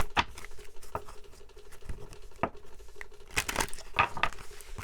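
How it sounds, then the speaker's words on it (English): Tarot cards are shuffled by hand in a close, soft flurry of papery riffles and taps that repeats irregularly, with some crinkling mixed in and no talk over it. "I'm also being moved to shuffle your cards in a really interesting way."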